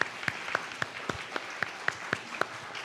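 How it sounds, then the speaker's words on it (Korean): Applause from a congregation at an anniversary church service, soft and somewhat distant, with about ten sharp claps standing out at a fairly regular pace above a quiet clapping wash. "영광의 박수 돌리겠습니다."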